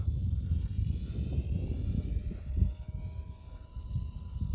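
An Eachine T-28 RC warbird plane flying at half throttle, its small electric motor giving a steady droning buzz with faint whine overtones, heard from a distance against wind noise.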